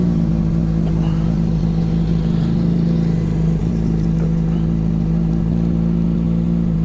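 A loud Kawasaki sport motorcycle, a Ninja 650 or ZX-25R, runs close by with a steady, heavy engine drone. It holds a constant pitch throughout with no clear rev swells.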